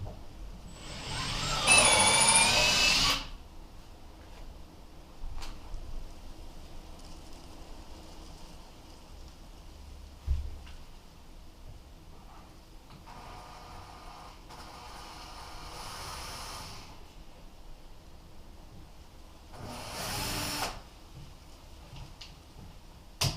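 A power drill with a slightly larger drill bit works during a bathroom cabinet install, giving a loud whirring burst near the start. A few fainter short bursts are separated by quiet stretches.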